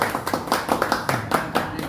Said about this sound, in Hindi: जोरदार ताली दे बाबा जी की